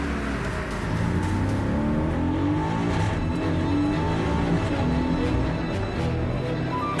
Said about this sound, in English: The driver immediately takes off at full throttle.